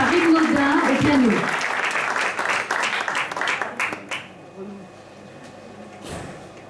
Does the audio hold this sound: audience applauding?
yes